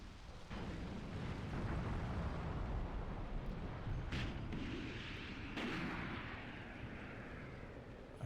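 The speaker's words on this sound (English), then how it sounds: "I heard another ATGM fire" An ATGM missile fires in a combined-arms war game, a loud rushing launch blast followed by a long roaring rumble amid distant explosions, dense and sustained with no talk.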